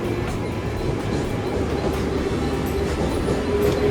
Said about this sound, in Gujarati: આ સિટી ટ્રેન છે. સિટી ટ્રેનમાં લોકો આવી રીતે સફર કરે છે.